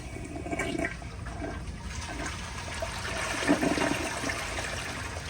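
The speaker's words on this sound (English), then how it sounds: "So here is another flush." A 2002 Kohler Santa Rosa Ingenium toilet flushes with a strong rushing swirl of water that holds steady and close for several seconds, with no voices over it.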